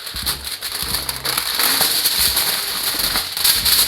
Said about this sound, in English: what I'll do now is just get some foil paper